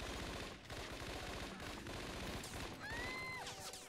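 Rapid bursts of gunfire in Scarface: The World Is Yours, dense and continuous, with a whistling tone sweeping through near the end.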